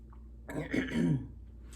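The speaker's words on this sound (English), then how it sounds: "I'm coughing" A single short, close cough or throat-clearing rasp, quiet and isolated with faint background hiss.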